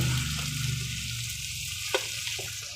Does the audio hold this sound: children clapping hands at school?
no